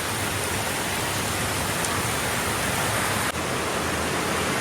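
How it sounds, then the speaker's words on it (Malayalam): Heavy rain pours down in Kerala as a dense, unbroken hiss, loud and steady for the whole stretch, with no voices over it. "ഭയങ്കര മഴ"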